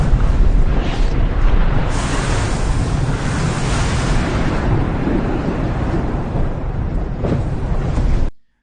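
AI-generated dragon flying over crashing ocean waves: a loud, continuous roar of surf and rushing wind that swells and sweeps through, ending abruptly.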